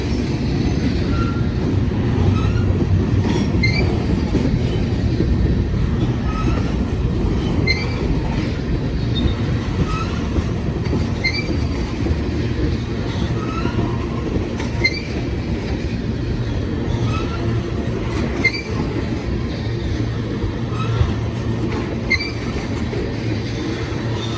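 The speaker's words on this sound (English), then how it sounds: "Wow, this is a long train here." A long CSX freight train rolls steadily past close by, with continuous rumbling, rhythmic clicking wheels and occasional metallic squeals throughout.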